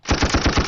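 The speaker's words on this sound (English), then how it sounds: "gunshot salute to everybody that tuned in" Rapid burst of gunfire played as a sound effect, about six sharp shots in quick automatic succession, loud and close, with no talk over it.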